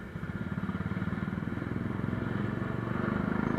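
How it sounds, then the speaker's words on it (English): Harley-Davidson Street 750 motorcycle fitted with a Screaming Eagle exhaust, its engine giving a steady low, throbbing rumble with fast regular pulses that builds slightly louder over a few seconds, close by and alone. "I guess it's Screaming Eagle exhaust."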